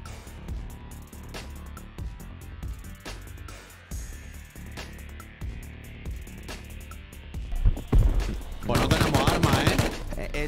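Gunfire in the survival video game Rust, scattered single shots early on, then dense rapid bursts of automatic fire near the end, set against low background noise with no one speaking.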